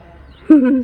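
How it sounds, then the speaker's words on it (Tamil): A brown pigeon gives a single short cooing call, close and fairly loud, rising suddenly from a quiet background with faint ambient noise. "ஒரு டிஃப்ரெண்ட்டான ப்ரௌன் பிஜியன்."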